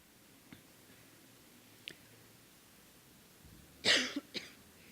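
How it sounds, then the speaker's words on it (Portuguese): A person with a nagging cough lets out a sharp, close cough near the end, followed by a smaller second burst, after a few faint earlier clicks in a quiet room. "que eu estou brigando com esta tosse chata"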